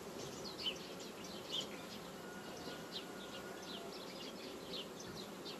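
Honey bees crowd a hive frame during queen rearing, giving a dense, steady buzzing hum that stays close and fairly even throughout, with faint higher chirps flickering above it.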